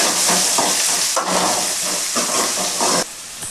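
Onions tossed into hot oil with mustard seeds and crushed garlic for a spicy Tamil brinjal curry, giving a loud, steady hissing sizzle with bursts of crackle, heard close and without speech.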